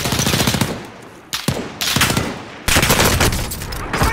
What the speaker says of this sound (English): he hit him headshot right in the forehead